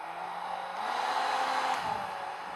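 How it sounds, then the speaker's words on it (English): A steady electric whir with a broad airy rush, holding at an even level for a couple of seconds without pause. "The hair dryer is perfectly working."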